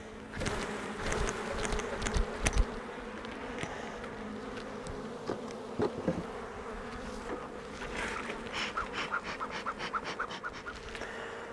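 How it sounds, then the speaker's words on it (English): Dense swarm of honeybees buzzing steadily around an open hive in spring, a continuous close, loud hum with individual wingbeats flickering in and out, no voices. "a lot of bees"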